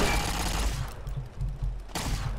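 Automated turrets firing in Fallout New Vegas, rapid bursts of game gunfire in quick succession, loud and close, with a brief lull before another burst.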